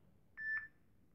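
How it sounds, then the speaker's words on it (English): A short two-note electronic chime, a WhatsApp message notification on a phone, rings out clearly over a faint low hum, then stops. "the next is your message notification sound"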